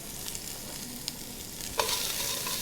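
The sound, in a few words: yellow onion caramelizing in hot pan with olive oil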